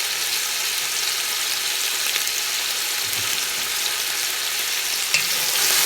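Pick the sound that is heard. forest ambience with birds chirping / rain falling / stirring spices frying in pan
stirring spices frying in pan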